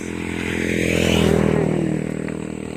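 A small motor engine runs close by on a rice farm with a steady buzzing drone, swelling slightly louder in the middle before easing back.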